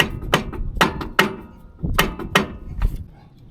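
Starter motor on a Victory motorcycle being struck to loosen it, a quick series of about eight sharp, close metallic taps in irregular rhythm, with nothing else heard.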